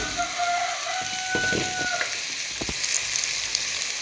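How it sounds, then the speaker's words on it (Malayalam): Shallots, green chilies and salt sauté in a hot pan, giving a steady, close sizzle and crackle with a few scraping stir sounds throughout. "കൊച്ചുള്ളി വെച്ചാണ് ഉള്ളിത്തേൽ ഉണ്ടാക്കുന്നത് പിന്നെ മൂന്ന് പച്ചമുളകും കുറച്ച് ഉപ്പും കൂടെ ഇട്ട് കൊടുക്കണം നല്ലപോലെ ഇളക്കി"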